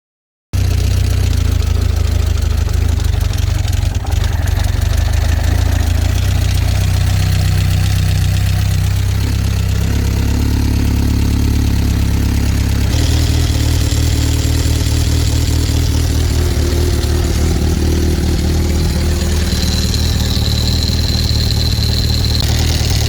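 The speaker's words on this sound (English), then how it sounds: "adjusted the valves, and started the engine" A 1976 Honda CB550 motorcycle engine runs continuously and loudly up close, a steady idling rumble with uneven knocking texture and a shift in tone partway through, with no talking.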